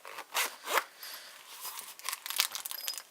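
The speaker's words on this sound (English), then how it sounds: "that zip is a lot easier to open than the zip in my last case was" Zipper on a lock pick set case is pulled open in several quick, close rasping strokes, separated by short pauses and light rustling of the case.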